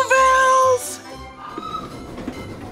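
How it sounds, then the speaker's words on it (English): A toy candy cane train gives a bright electronic whistle-like tone in a few stepped notes, followed by a short chime and a softer rumbling, clattering run. "That sound means the candy cane train is about to make a toy delivery for us to test."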